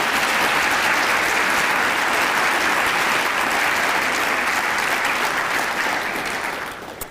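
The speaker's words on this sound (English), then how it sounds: "Please give them a round of applause." At a Teacher of the Year 2025 ceremony, an audience gives school board members a round of applause, loud and sustained, then thinning out and stopping near the end.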